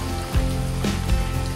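Rain falls on a rainy morning in Bicol, a dense steady hiss with a few heavier drops and thumps standing out.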